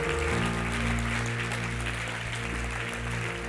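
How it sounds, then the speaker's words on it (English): A church congregation claps together after a sermon, a steady dense wash of applause at moderate loudness with no talk over it. "Would you clap your hands and thank God for His word today?"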